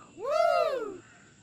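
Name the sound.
crow cawing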